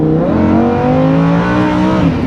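A Lamborghini Huracán engine in Sport mode revs up hard, its pitch climbing steadily in a loud, smooth roar heard from close inside or near the car.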